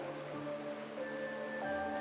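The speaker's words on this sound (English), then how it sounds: "This is the sound of rain." Steady rain in the video game Honkai: Star Rail, a soft continuous hiss with faint tonal music layered underneath, quiet and even throughout.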